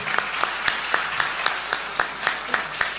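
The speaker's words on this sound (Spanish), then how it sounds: "un aplauso para el hermano, bienvenido" A gathered audience at a religious debate event claps to welcome a participant, with a steady rhythmic beat of sharp, evenly spaced claps over a continuous wash of scattered clapping, fairly close and loud.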